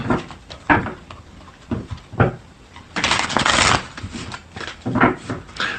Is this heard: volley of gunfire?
no